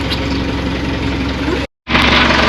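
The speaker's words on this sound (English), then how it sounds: "when we start the engine, that there's water coming out the exhaust" A boat engine idles with a loud, steady low chugging throb, cuts out abruptly for a moment, then comes back at full level.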